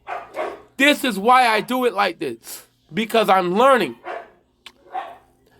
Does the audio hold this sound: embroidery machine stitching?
no